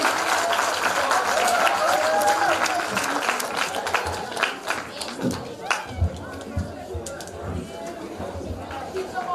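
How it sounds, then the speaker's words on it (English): Audience applause at a primary school graduation ceremony, dense clapping with crowd chatter and a voice over a PA, thinning into scattered, irregular claps as it fades. "Let's clap them as they come."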